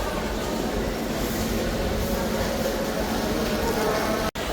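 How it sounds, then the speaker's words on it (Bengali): Banalata Express train standing at a railway platform, a steady loud rumble of station and train noise filling the whole stretch with a brief cut near the end. "দেখতেই পাচ্ছি বনলতা এক্সপ্রেস প্ল্যাটফর্মেই দাঁড়িয়ে রয়েছে অন ট্রেন হয়ে"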